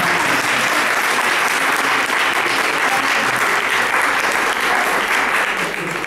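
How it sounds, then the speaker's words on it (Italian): Loud, dense audience applause fills a cultural salon gathering in Castellammare di Stabia, a continuous close wash of many hands clapping at an even level throughout. "Scusa, un applauso a Marina, scusate"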